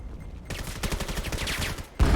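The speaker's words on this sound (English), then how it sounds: "Shots coming through the smoke." Rapid automatic gunfire rattles in a competitive 5v5 shooter game tournament, a quick burst of repeated shots lasting over a second and followed by a louder blast.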